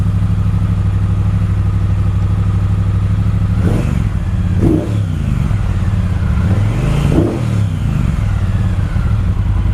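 Close and loud, a 2018 Triumph Speedmaster motorcycle idles steadily, then its engine is revved in several quick blips that rise and fall, with no voices.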